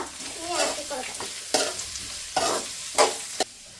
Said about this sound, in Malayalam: ഉപ്പിട്ട് ഇനി ഇളക്കി കൊടുക്കുക